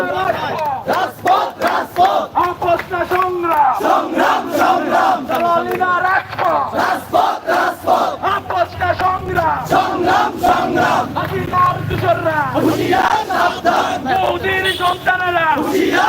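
A crowd of protesting students chants slogans in rhythmic unison outside Titumir College, loud, close and continuous, with shouted call-and-response bursts.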